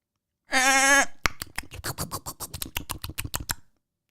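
A sheep gives one loud, wavering bleat up close, and then comes a quick run of sharp clicks or scratches that taper off. No voices are heard.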